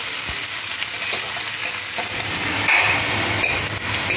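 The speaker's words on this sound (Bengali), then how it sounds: "লঙ্কা পেঁয়াজটাকে অল্প একটু ভাজতে হবে, বেশি লাল লাল করে ভাজবো না।" Chopped onion and green chili fry in a pan for a chicken sandwich filling, giving a steady, loud sizzle with occasional light scraping and clinks throughout.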